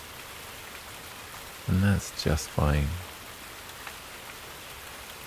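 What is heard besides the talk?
rain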